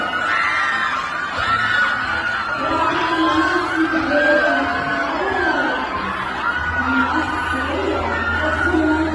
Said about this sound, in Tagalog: Grabe ang hiyawan ng mga fans at supporters ni Kyle habang naglalakad ito sa black carpet